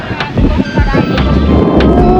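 Steady wind buffeting the microphone at a communal ranch in Impasug-ong, Bukidnon, a low rumbling roar that continues throughout with a few gusty bursts.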